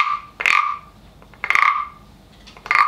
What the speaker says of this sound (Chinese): 哦，像青蛙的叫声。